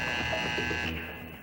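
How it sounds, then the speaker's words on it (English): A basketball game buzzer in a gym sounds one steady electronic tone that holds for about a second and then cuts off. "The buzzer."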